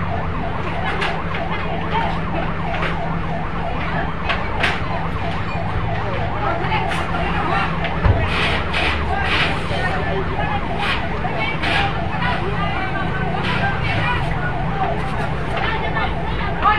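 Fire truck siren wails continuously at a house fire in Sorsogon City, Philippines, loud and close with steady oscillating tones, over street commotion and voices talking.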